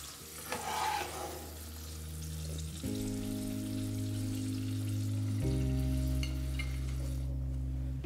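Cauliflower frying in the same oil used for potatoes, low flame, with a steady close sizzle and soft stirring, while a low background hum runs underneath, no talking.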